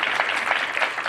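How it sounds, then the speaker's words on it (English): Audience applause at a civic event on affordable housing in New York City, a short steady patter of clapping from a modest crowd. "could everybody join me in giving a warm round of applause?"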